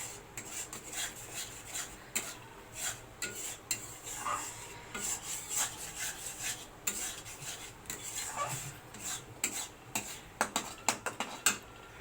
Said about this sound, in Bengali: আমরা দেখো এবার ডালটাকে ভালো করে কষাতে হবে।